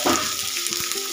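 Food frying in a pan on a home stove sizzles steadily and fairly loudly, with a few soft stirring knocks and no talk.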